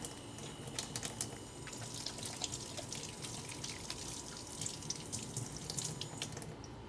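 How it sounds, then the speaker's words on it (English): Tap water running steadily into a sink while hands are rinsed, a soft, even splashing stream with small irregular drips, faint and close, without talking. "let me do one more little rinse of the hands"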